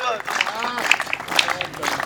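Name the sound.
audience clapping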